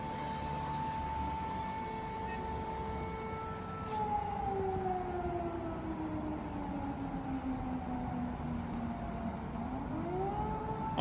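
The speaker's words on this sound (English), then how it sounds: "we can hear those air sirens in the distance" Air raid sirens wailing in the distance over Kyiv, several long rising and falling tones overlapping steadily above low city rumble, with no talk.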